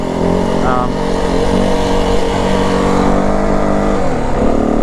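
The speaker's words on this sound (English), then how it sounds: "But bike's running good now. It doesn't seem to be running hot." A 2025 Yamaha WR450F dirt bike engine runs steadily and loud throughout, a dense continuous drone with a brief rise in pitch near the end.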